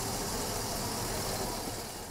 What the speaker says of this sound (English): This one, you can hear the exhaust a little bit more.